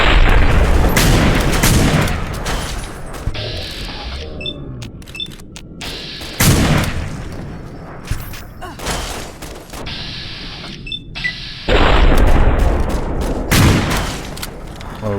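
Heavy shotgun blasts in Fallout: New Vegas, several loud booming shots at irregular intervals with decaying echoes and quieter gameplay noise between them.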